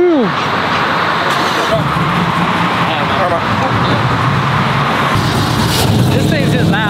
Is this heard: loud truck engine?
yes